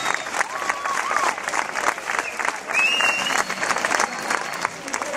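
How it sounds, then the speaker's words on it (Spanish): A crowd applauding a local woman receiving a trophy at a 10K race awards ceremony, loud sustained clapping with cheers and a whistle, outdoors, under a little background talk. "mira qué aplauso que te da la gente de tu tierra"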